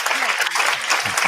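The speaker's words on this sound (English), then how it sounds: "Clap on that" A short burst of clapping and applause during a casual podcast-style talk show, brief and close, mixed with overlapping voices.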